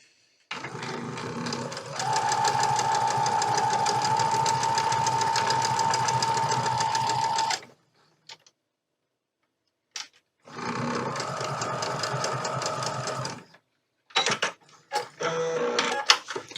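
A pedal-driven sewing machine stitches quilt pieces, whirring steadily for several seconds, then stopping, running again, and finishing with short stop-start bursts, close and loud.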